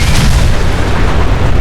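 Mini nuke explosions in the Fallout 4 video game make a dense, continuous, very loud rumble of overlapping booms. The blasts run together without a break, and there is no talk.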